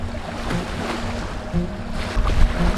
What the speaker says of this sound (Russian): Ветер начинает усиливаться.